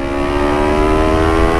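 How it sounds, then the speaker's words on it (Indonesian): A motorcycle engine with an aftermarket exhaust holds a steady, loud, droning rev with a strong harmonic hum that stays even throughout, with no talking. "Knalpotnya enak banget, suaranya adem."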